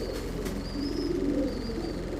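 A female pigeon gives soft, low, repeated cooing close by over a constant background hum.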